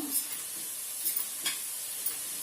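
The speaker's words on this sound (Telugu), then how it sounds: "ఇది నూనెలో మగ్గితే మంచి టేస్ట్ వస్తుంది స్టవ్ సిమ్లో పెట్టుకోండి" Potato and cabbage curry cooks in oil in a pan on a stove set to low heat, giving a steady soft sizzle and hiss with a few faint stirring scrapes, close by and without talk.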